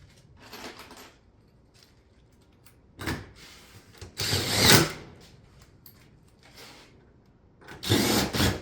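A power drill drives fasteners through the front nose of a stone-coated steel roof vent panel, several short bursts of whirring and grinding separated by quiet pauses, close by, with no talking.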